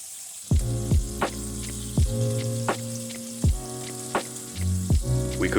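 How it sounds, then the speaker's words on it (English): Bread and bacon frying in a pan for cinnamon French toast, a steady close sizzle broken by sharp pops and crackles every second or so, with no talking. "We cook the bread and the bacon until brown."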